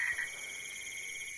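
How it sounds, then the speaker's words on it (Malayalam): A frog at an aviary at night, faint pulsing trill calls over a steady insect-like drone, with a short brighter call at the start and no voices. "അവിടുന്ന് തവള കരയുന്നുണ്ട്."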